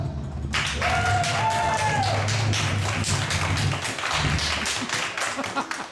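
An audience applauds a contestant: crowd clapping, dense and close, with a few voices calling out underneath and the noise thinning toward the end.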